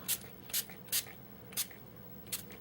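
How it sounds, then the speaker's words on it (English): Product being sprayed from a spray bottle, five short, soft hissing bursts at an uneven pace, close by and faint. "And it does take a little bit more to spray it"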